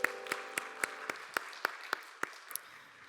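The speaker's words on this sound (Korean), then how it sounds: "서로를 격려하면서 박수하겠습니다." A church congregation claps together at a youth Sunday worship service, giving about a dozen sharp, separate claps in a slow, steady rhythm over a faint sustained musical hum.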